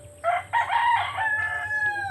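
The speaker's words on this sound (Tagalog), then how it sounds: "Yan, daming ibon, no?" Rooster crowing nearby in a rural mountain area in Leyte, with several loud drawn-out calls over a low background hum; no talk.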